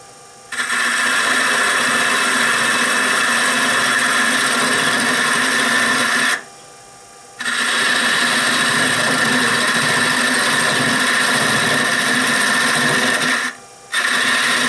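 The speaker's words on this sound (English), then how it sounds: "I'm going to start shaping the end of our spinning top." A wood lathe spinning as a spindle gouge shapes the end of a wooden spinning top, giving a steady, loud whirring cut that breaks off twice for about a second before resuming.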